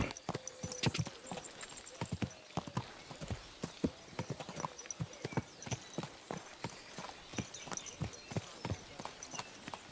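Rapid, steady clip-clop of a horse's hooves trotting in the video game Kingdom Come: Deliverance 2, crisp and close, with a regular rhythm throughout and no talking.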